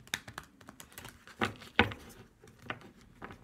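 Crisp, irregular riffling and soft slaps of cards being shuffled, a few sharper snaps standing out, close by with no voices.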